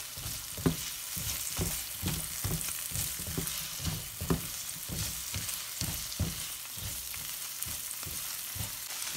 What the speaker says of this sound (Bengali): এখন আমি এগটাকে ভেজিটেবলের সাথে মিশিয়ে দিচ্ছি।